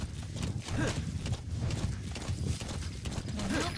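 Horse hooves clip-clopping in Metal Gear Solid V, a steady close-up walking rhythm of repeated hoof strikes over rough ground, running continuously under faint game ambience.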